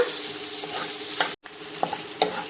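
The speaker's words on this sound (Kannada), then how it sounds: "ಸ್ವಲ್ಪ ಈರುಳ್ಳಿ ಟ್ರಾನ್ಸ್ಪರೆಂಟ್ ಆಗೋವರೆಗೂ ಫ್ರೈ ಮಾಡ್ಕೊಳ್ಳೋಣ" Onions frying in a pan for shahi paneer, a steady loud sizzle with a few spoon taps and scrapes as they are stirred, briefly cut off by a short gap.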